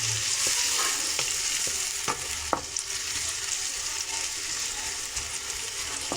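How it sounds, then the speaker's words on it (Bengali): Onions sizzle steadily in hot mustard oil, a continuous dense frying hiss with occasional light clinks of stirring and no talking. "পেঁয়াজটা একটু ভেজে নেব।"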